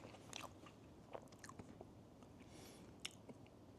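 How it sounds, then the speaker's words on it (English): Quiet chewing of crunchy fried tempura from a fancy Japanese meal, with soft close bites and a few sharper crunches scattered over a low room murmur. "we eat tempura"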